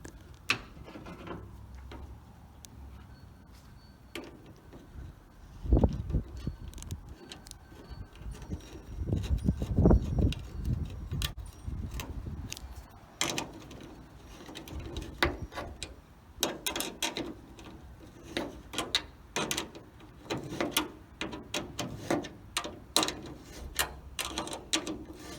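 Ratcheting and clicking of a wrench tightening the trim retaining nuts on a 1966 Dodge Dart GT barn find, close and fairly loud, with irregular bursts of mechanical clatter and some handling noise.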